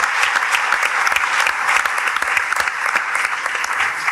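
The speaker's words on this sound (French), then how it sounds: "on l'applaudit bien fort" Loud, dense applause from an audience at a bullfighting-season poster announcement, steady and sustained throughout without pause.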